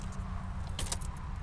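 Car keys for a 2007 Subaru STI jingle in a quick, faint cluster of metallic clinks over a low background hum.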